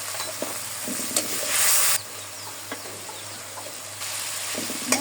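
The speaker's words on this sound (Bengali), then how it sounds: "মশলা কষানো হয়ে গেছে।" Masala spices fry and sizzle in a pan while being stirred, a steady close hiss with scraping stirs and brief louder bursts of sizzle, no voices.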